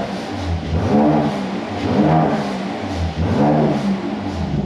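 Engine of a Mercedes C43 AMG being rebuilt after a wreck, running loud and close with three rising and falling revs in steady succession, no talk.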